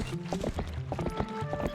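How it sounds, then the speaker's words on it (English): In a Zelda Hyrule video game, a horse's hooves clip-clop in a quick, steady galloping rhythm over game music tones, close and moderately loud. "get on my horse and keep it rolling"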